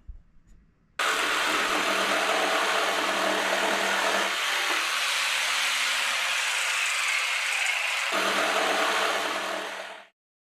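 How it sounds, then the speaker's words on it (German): A jigsaw cuts out a door hatch in the roof of a VW T3 bus. The dense, buzzing saw runs steadily for about nine seconds, its tone shifting slightly as the cut goes on, then stops abruptly. "Den Rest der Klappe schneiden wir dann vorsichtig mit der Stichsäge aus"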